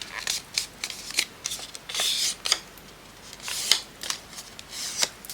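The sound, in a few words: cutting paper with scissors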